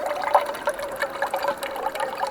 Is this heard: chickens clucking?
no